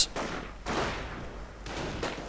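Rifle fire rattles in a strategy video game battle, three or four bursts of crackling shots in quick succession, mid-distance and fairly loud.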